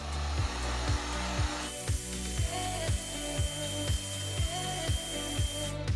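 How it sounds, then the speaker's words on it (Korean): A hair dryer blows with a steady airy whoosh, drying poster paint on a craft piggy bank, joined by a regular mechanical ticking pulse throughout, close and loud. "포스터용 물감을 조금 빨리 말리시고 싶으신 분들은 드라이기를 사용하시면 되는데"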